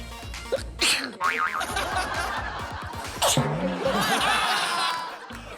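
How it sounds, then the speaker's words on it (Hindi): Someone sneezes on cue while a photo is taken during a prank in a gym, with sharp bursts amid giggles and laughter from people nearby, and voices mixed in. "जब भी फोटो खींचे तो छींक मार।"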